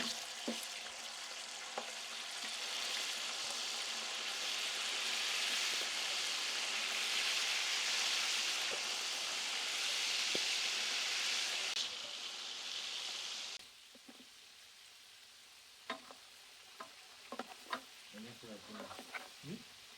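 Chicken pieces fry in hot soybean oil with a loud, dense sizzle that runs steadily, then drops abruptly to quieter crackles and scattered pops near the end.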